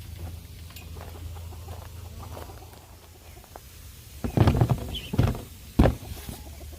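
Chickens forage in a chicken yard, giving a few close, soft clucks and short calls over a low background hum.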